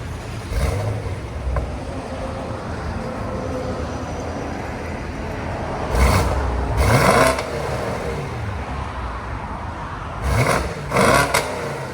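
Stock 2020 BMW M850i with its 4.4L twin-turbo V8, exhaust still unmodified, idling with a low rumble and then giving several sharp revs in quick pairs, loud and close.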